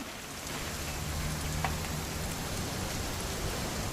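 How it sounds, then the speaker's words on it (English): Steady rain falls throughout a scene in the video game What Remains of Edith Finch, a continuous hiss of drops on surfaces with a low hum beneath and no voices. "It's gonna rain the whole weekend, isn't it?"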